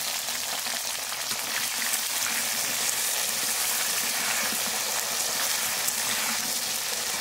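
Taro (kochurmukhi) fries vigorously in a pan, a dense, loud, unbroken sizzle like steady rain that holds evenly throughout, close up and with no one talking.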